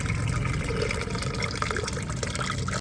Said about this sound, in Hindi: पानी इधर निकाल देते हैं फिर चलेगा।